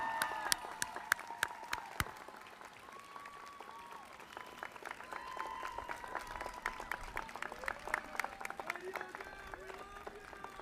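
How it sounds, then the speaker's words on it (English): An audience at a School of Communication degree ceremony applauds the faculty, a sustained round of clapping from a large crowd in a hall, steady and moderately loud, with a few distinct claps and faint voices underneath. "So would the faculty please stand for a round of applause."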